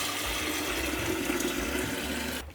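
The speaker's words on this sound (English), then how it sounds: "then we want to go fill up the kettle with water" Water rushes steadily from a tap into a kettle, a loud, continuous splashing fill that cuts off abruptly at the very end, with no talking.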